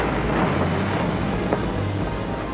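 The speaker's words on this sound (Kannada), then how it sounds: "ಭಾರಿ ಅಲೆಗಳು ಏಳುತ್ತಿವೆ." Big waves rise in a storm on the Sea of Galilee, a dramatized effect of heavy, rumbling surf that stays loud and continuous, surging steadily without any voices.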